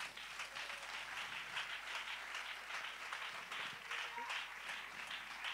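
Worshippers in a church break into applause, a dense, even patter of many hands clapping at a moderate, somewhat distant level for several seconds, with faint voices blended into the sound.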